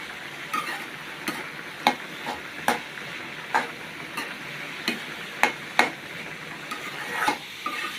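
Banana bhaji fries in a pan with a constant soft sizzle, punctuated by regular sharp scraping knocks of a spatula stirring against the pan, close and without talk.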